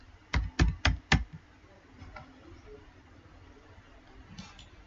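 A computer keyboard gives four quick, distinct keystrokes close by, followed by a few fainter taps in a quiet room.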